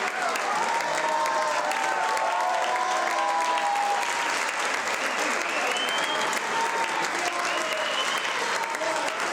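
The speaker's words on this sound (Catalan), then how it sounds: "Un fort aplaudiment també per l'equip tècnic, l'equip de vestuari, l'equip directiu i l'equip artístic" Audience applause after a folk dance show, a loud, dense and sustained ovation of many hands that holds steady throughout, with a few faint cheers mixed into the clapping.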